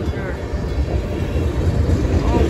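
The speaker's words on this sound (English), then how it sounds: "Awesome tier 4 locomotive it looks like" A CSX freight train led by a tier 4 locomotive rolls past close by on a snowy day in Holland, Michigan, a loud steady rumble with rhythmic wheel clatter and no clear speech.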